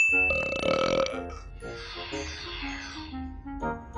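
Cartoon baby burp from the Sonic Underground animated series, one loud, drawn-out belch with a bright tonal start that trails into a rough, fading rumble, up close and alone without talk.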